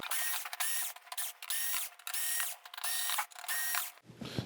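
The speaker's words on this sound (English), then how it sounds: "we can take these screws out, and that should release the board from the chassis" Power drill backing screws out of a circuit board on a Samsung UN46D7000 TV chassis, whirring in about six short, loud bursts with brief pauses between, then stopping.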